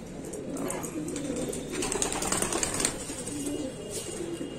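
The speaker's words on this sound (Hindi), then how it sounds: "बहुत ही टॉप क्वालिटी कबूतर है मद्रासी" Madrasi pigeons coo softly amid a busy, rustling background, with occasional wing flutters and a steady murmur throughout.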